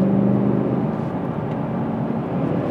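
A Mercedes-Benz W211 E63 AMG accelerates hard with a steady, loud engine drone heard from inside the cabin, as the driver downshifts into third gear.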